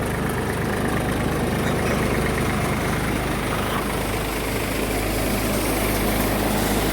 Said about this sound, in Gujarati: બે હજાર કલાક ચાલી ગયું છે આપણું ટ્રેક્ટર અને તમે પરફોર્મન્સ જુઓ